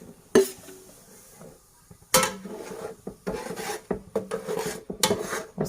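Semolina and flour are stirred in hot oil in a pan, giving close, intermittent scraping and rasping strokes of a spoon against the metal, in short irregular bursts with quiet gaps.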